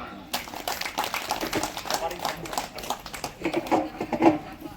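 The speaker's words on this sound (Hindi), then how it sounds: "जोरदार ताली मार" A gathering at a Tontokutu panchayat meeting in Jhinkpani block claps in scattered bursts, the individual claps uneven and fairly close, fading and swelling with crowd noise in between.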